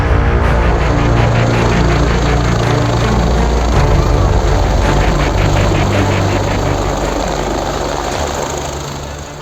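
A helicopter arrives at Raghopur in Bihar, its rotor chop and engine whine loud and close with a steady pulsing beat that fades slightly toward the end.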